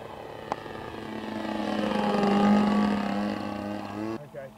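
A model Extra 300 aerobatic plane with a propeller, droning steadily overhead as it flies straight and level, swelling louder as it passes nearer and then fading, with a brief click and faint voices near the end.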